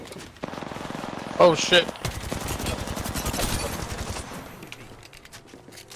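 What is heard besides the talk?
gunfire in the video game Apex Legends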